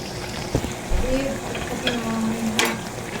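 Shrimp is stirred in a hot pan with sizzling, and scraping utensil clanks sound at a few points. The sizzle runs steadily under brief bits of speech.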